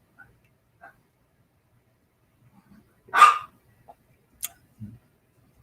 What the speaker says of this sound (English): she's barking at something that's floating around above her.